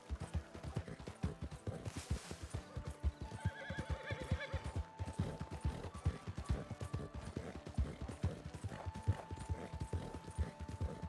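In the RedM roleplay game a horse walks at a steady clip-clop of hooves for the whole clip, with a whinny rising near the start and faint tonal game sounds underneath, all fairly quiet.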